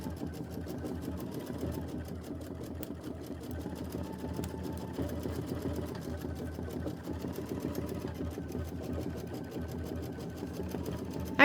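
An embroidery sewing machine stitching out a quilt block runs steadily for the whole span, a continuous mechanical whir with a rapid, even stitching rhythm at moderate, constant loudness.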